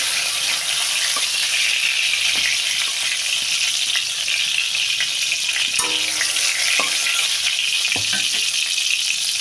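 Steady oil sizzle of ridge gourd frying, continuous and close, with a few light clinks of a utensil against the pan.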